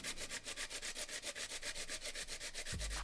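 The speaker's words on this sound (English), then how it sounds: "we're just going to grate the carrot into the bowl" A peeled carrot is rasped against a grater into a bowl, making quick, steady back-and-forth scraping strokes at a fast even rhythm. The sound is close and fairly loud, with a dull thump near the end.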